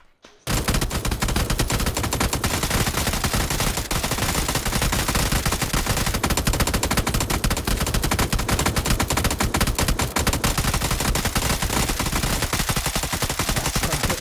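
An M249 machine gun in a battle royale video game fires in long continuous bursts, dense rapid gunfire filling the whole stretch loud and close, with no talk over it.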